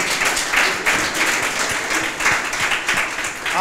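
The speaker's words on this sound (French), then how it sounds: "je pense qu'il faut les applaudir, il faut les encourager quand même" An audience applauds presenters after a jury session, a steady, moderately loud spread of many hands clapping, with slight swells in intensity and no pause.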